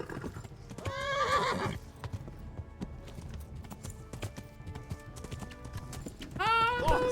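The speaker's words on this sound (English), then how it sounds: "Oh, little horse, don't stop now." A horse in the medieval video game Kingdom Come: Deliverance gallops with steady rapid hoofbeats, bracketed by two loud, high whinnies at the start and end of the run.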